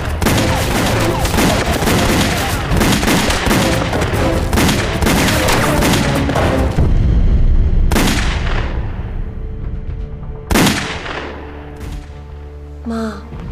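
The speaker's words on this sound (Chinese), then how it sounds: "枪怎么响得这么厉害啊" Heavy gunfire and artillery in a Chinese anti-Japanese war spy TV drama: a loud, dense barrage of rapid shots and booms, then a few sharp, isolated blasts that ring out and fade.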